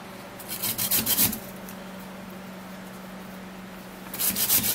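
Rasping scrapes from a hand grater, heard in two short bursts of quick repeated strokes separated by a quiet pause, close and fairly loud with no voices.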